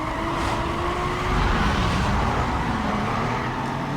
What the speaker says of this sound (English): So let's try that drag race again.